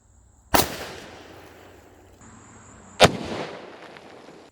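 Two sharp gunshots fired at cheap Dollar Tree body armor, each a loud close crack followed by a short echoing decay, spaced about two and a half seconds apart.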